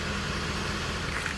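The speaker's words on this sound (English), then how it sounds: "Truck runs really well. You can hear it running right now." A truck with a crane idles nearby, giving a steady, broadband mechanical rumble that holds evenly throughout, no voices over it.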